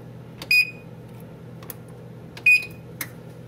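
A kitchen oven's control panel gives two short, clear electronic beeps about two seconds apart while being set to preheat to 350 degrees Fahrenheit, with faint clicks of button presses in between over a quiet hum.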